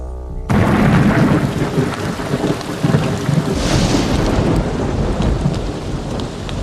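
A thunderstorm with heavy, steady rain, loud and close, with a deep thunder rumble rolling under the constant downpour.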